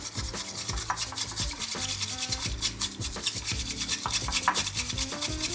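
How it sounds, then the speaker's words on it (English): A bamboo whisk rapidly brushing matcha back and forth in a bowl, a steady scratchy rubbing rhythm repeated many times over soft background music. "now that we have whisked our matcha for about 30 seconds or so"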